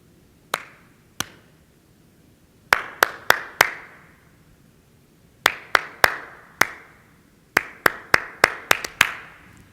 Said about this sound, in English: I'm gonna do a little clapping activity right now